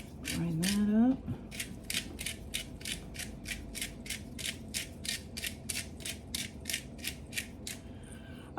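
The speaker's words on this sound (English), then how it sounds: "Up my little pepper grinder." Pepper being ground in a hand pepper grinder while making loaded potato soup: a voice speaks briefly, then about twenty evenly spaced, close, crisp ratcheting grinds follow.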